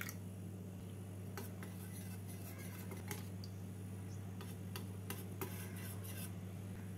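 A spoon stirs chicken keema wrap batter being thinned with water, giving soft scraping and light clinks against the bowl in irregular bursts over a steady low background hum.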